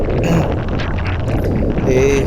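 Strong wind gusts buffet the microphone on a flooded street during a heavy rainstorm, roaring and rumbling loudly while someone talks over it.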